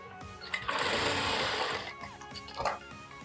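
Close and loud, a sewing machine runs in one steady burst lasting about a second and a half, stitching a strip onto a sleeveless princess-cut blouse, with a softer whir following just afterward.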